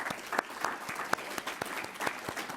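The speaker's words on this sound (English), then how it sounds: "Let's give them another round of applause." Quiet applause from a small audience at an education panel event, heard as scattered, fairly distinct claps at a modest, uneven rhythm.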